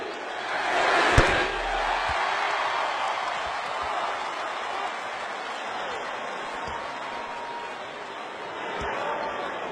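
A basketball arena crowd roars and applauds in a sustained, distant wash of cheering at a Kobe Bryant game, with a sharp slam near the start and faint talk beneath.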